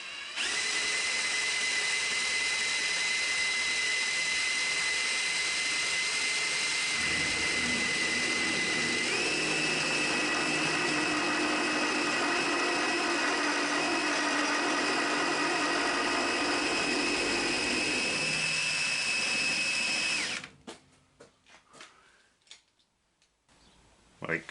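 A milling machine takes a half-millimetre cut across a cast-iron milling head casting: a steady high whine and grinding chatter that runs continuously, shifts pitch partway through, then stops abruptly near the end.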